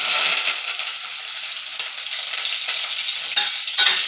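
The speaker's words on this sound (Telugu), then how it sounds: "నూనె మరిగిపోయింది, మొత్తం పోపు దినుసులు వేసేసుకుంటున్నాను." Tempering spices dropped into boiling oil for a buttermilk curry crackle and sizzle loudly and steadily up close, with no voices.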